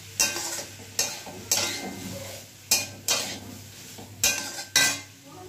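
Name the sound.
stirring and mixing chicken with spices in a pan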